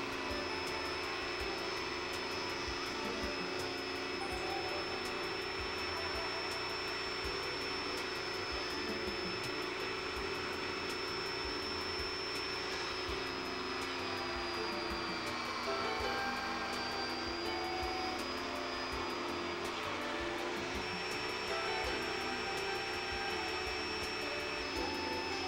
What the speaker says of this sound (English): Use your favorite method to cut the spar caps and trailing edges. In this case, I use a Dremel table saw.